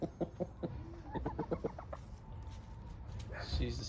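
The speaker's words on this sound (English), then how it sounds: "there's Carla, my Rhode Island chicken" A Rhode Island Red laying hen clucking in short rhythmic bursts close by, with someone talking over some of the clucks in a backyard setting.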